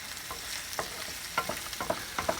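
White button mushrooms sizzle steadily in a pan for a balsamic mushroom spaghetti, a soft continuous fry with a few sharper spatula scrapes and stirs scattered through, close and moderately quiet, with no talking.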